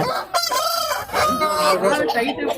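A rooster of about four to four and a half kilograms crows loudly and close at a Kunnathur rooster market, with clucking fowl and voices of people talking around it.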